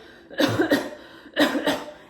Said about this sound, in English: turn your arm into your body and cough twice